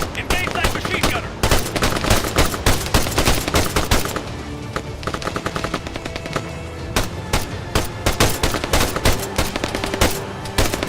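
Dense bursts of automatic gunfire crackle almost nonstop through a video game firefight, with loud rapid volleys layered over background battle noise and occasional shouted voices.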